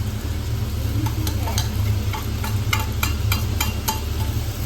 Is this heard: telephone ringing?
no